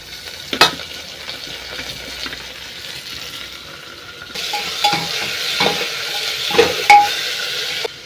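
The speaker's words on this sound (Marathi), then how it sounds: "हे बघा आता हे तळत आलेलं आहे, सगळं कांदा वगैरे भाजत आलेलं आहे" Onions, capsicum, beans, tomato and potato for dal khichdi fry in a pan, a low sizzle that grows louder midway, punctuated by a few sharp clinks of a spoon against the metal pot.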